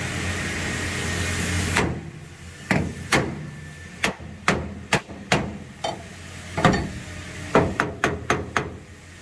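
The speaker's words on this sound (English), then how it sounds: "I'm gonna hammer this in real quick." Sharp hammer blows strike a metal roof cap piece on a 1987 Peterbilt 379, a dozen or so hits in irregular bursts with short pauses, close and loud over a faint background hum.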